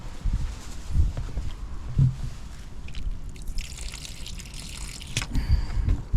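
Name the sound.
water draining from a hot water cylinder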